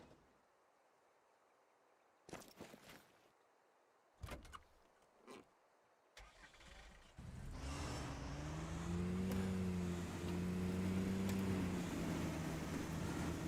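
A Jeep-like off-road vehicle in Call of the Wild: The Angler starts after a few door clunks, and its engine then settles into a steady, loud, rising drone with changing revs.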